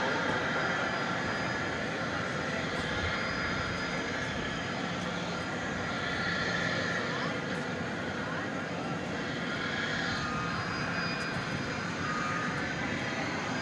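A jet airliner on flight 1387 to San Francisco takes off from Dallas Fort Worth airport at night, its engine roar steady and broad throughout, fairly distant, with talk in the background.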